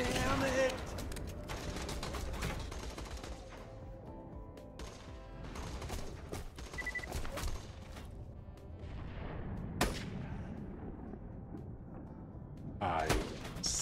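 Turret gunfire in Borderlands 2, sharp repeated bursts of shots with mechanical clatter throughout, loud and close, mixed with game effects and some talk.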